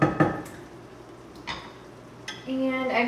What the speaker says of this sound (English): You just want it to kind of sizzle. To sizzle off all this